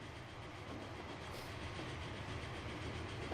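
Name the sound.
train climbing a hill in Transport Fever video game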